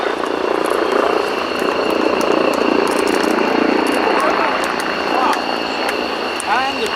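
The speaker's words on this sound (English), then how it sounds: "as the Gripen comes in to land over the threshold" A Saab Gripen fighter jet comes in to land at an air show, its engine roar heard at a distance as a continuous wash over crowd ambience, with an announcer talking over it.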